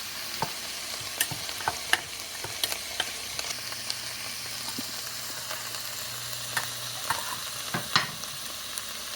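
Vegetables with two teaspoons of sugar being stirred in a pan, a soft background sizzle broken by scattered light scrapes and taps of the utensil, close and fairly quiet, with no talking.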